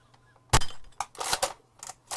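A Nerf Sling Fire blaster, a lever-action toy loaded like a Winchester rifle, snaps off a sharp shot followed by several quick plastic clacks and rattles of the mechanism, close and alone.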